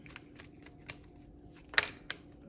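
Tarot cards being shuffled by hand, soft papery riffles and taps, a few brief louder card snaps over a quiet background.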